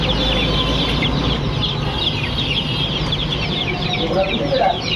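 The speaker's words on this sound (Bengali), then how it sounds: "দেখুন অরিজিনাল মিশরি ফার্মি মুরগির বাচ্চা" A crowd of Fayoumi chicks on a poultry farm cheeps and clucks nonstop, with loud, dense overlapping calls and a faint murmur of voices underneath.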